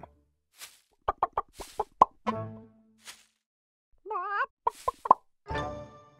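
A hen makes a run of quick, sharp clucks and pops with short pauses, then a brief warbling squawk and more clucks, loud and close in an otherwise quiet setting.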